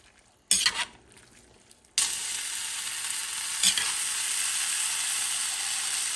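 A spoon stirs black-eyed peas and collard greens, seasoned with black pepper and salt, in a cooking pot: a loud scrape and clatter, then a steady, close sizzling stir that keeps going with another brief scrape partway.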